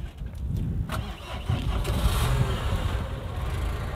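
A used car at a budget car market cranks and starts, a short burst of starter whirr settling into a steady running engine heard up close and alone.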